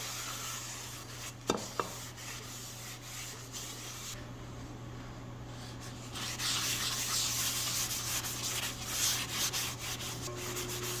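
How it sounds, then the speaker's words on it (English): Faint, soft rubbing of a cloth wiping excess oil off a cast iron skillet continues over a low steady hum, with a couple of small knocks early on and slightly stronger wiping toward the end. "I'll just go back and wipe all the excess off."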